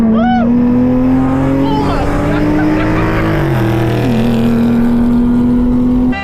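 Ford Mustang 5.0 drag racing, its engine roaring loud and steady at high revs with rising and falling pitch as the tires spin, while a voice shouts over it.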